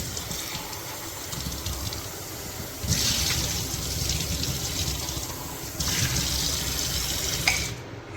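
Tap water runs steadily into a sink while tea cups are washed, a continuous close gush that swells louder at a few moments, with no talking.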